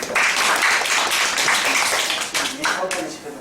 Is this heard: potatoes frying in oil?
no